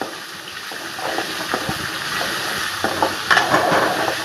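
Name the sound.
okra (ladies' finger) sautéing in a pan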